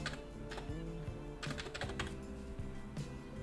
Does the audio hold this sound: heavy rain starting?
no